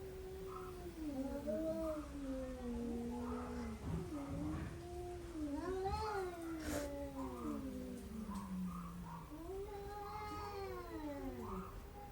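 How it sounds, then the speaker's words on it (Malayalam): Two cats fighting, trading loud, drawn-out yowls and meows that rise and fall, overlapping each other almost continuously for about twelve seconds, close by with no talking. "ഇപ്പം നിങ്ങൾ കണ്ട പൂച്ചകളുണ്ടല്ലോ എനിക്ക് ഭയങ്കര പേടിയുള്ള രണ്ട് പൂച്ചകളാണ്"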